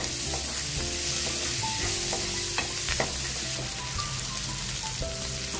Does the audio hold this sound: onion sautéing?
yes